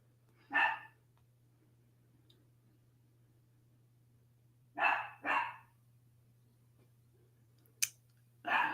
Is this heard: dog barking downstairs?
yes